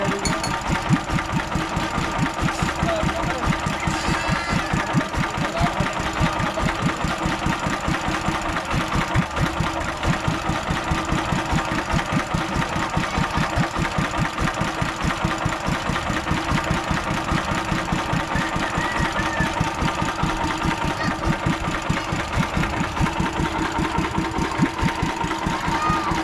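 A small outrigger boat engine runs continuously with a steady, rapid chugging throb, loud and close, with voices talking over it at times.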